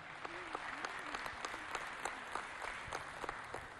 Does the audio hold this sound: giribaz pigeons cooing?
no